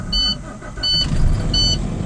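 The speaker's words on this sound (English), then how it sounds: "I'm going to go ahead and turn on my truck and rebuild air pressure back to 120 to 140 so I can perform my tug test" A truck idles with a low engine rumble while three evenly spaced electronic warning beeps sound from the cab, close and clear, with no voices.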